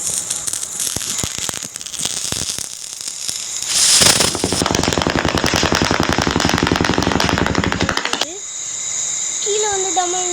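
Diwali firecrackers go off in rapid crackling bursts like machine-gun fire, loud and close, with a long sustained rattle in the middle and scattered single bangs, while children and adults talk over them.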